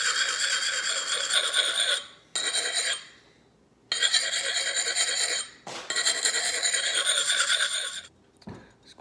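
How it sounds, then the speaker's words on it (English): Steady back-and-forth rasping of a gnarly, edge-rounded camping axe drawn across an oiled sharpening stone, close and loud in about four long strokes separated by brief pauses, with no talking. "A sharpening stone. Honing oil. This is my camping axe I use in the Jeep"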